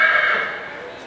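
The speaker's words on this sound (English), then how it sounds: "hello there. You are a nice surprise" Horse whinnying in a barn at the Minnesota State Fair, one short, close, loud neigh that fades over about a second.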